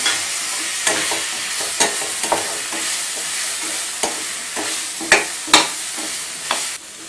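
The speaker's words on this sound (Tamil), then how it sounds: "இது கூட அரை வேக்காடு வேக வச்சு எடுத்துருக்கிற வாழைக்காயை சேர்த்து நல்லா கிளறி விட்டுக்கலாம்." Half-boiled plantain pieces being stirred and sautéed in a pan for a Tamil New Year feast, with a series of sharp spatula scrapes and knocks at uneven intervals over a soft frying hiss, close and clear, with no voices.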